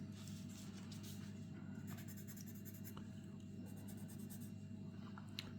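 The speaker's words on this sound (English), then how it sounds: "if you're an enjoyer of the pencil-y type sounds," Pencils colouring on paper in a quiet room, a soft continuous scratchy scribbling heard up close over a steady low hum.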